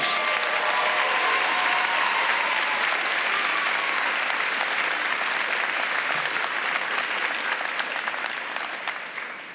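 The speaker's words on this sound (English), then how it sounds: "Let's give another round of applause to the graduating seniors" A commencement audience applauds graduating seniors at the University of the Arts 2018 ceremony, a dense, sustained wash of clapping that holds steady for most of the stretch before tapering slightly near the end.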